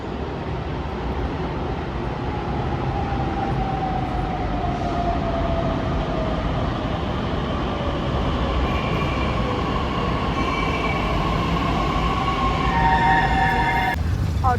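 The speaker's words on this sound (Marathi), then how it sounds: "ऑटो रिक्षा करून चाललोय आता आम्ही लक्ष्मी रोडला." Steady loud engine and road rumble from inside an auto rickshaw heading to Laxmi Road in Pune on a hot day, with passing traffic and a rising tone near the end.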